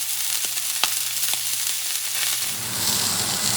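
Bison sirloin steak sears in a hot pan, a steady close sizzle and crackle with a few sharp pops, the frying growing broader and louder toward the end.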